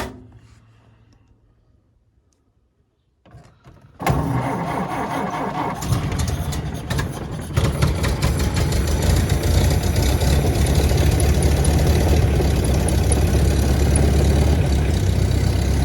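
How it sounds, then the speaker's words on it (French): A 1928 Ford Model A cranks over after a quiet stretch, catches on the second attempt and settles into a loud, steady, rumbling idle that grows a little stronger, close to the car, with no talk. "Contact, démarreur. Ça démarre au bout de 2 fois."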